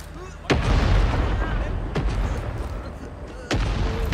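Heavy gunfire and booming impacts in Rising Storm 2: Vietnam, three sharp loud blasts each followed by rumbling combat noise, with faint voices mixed in.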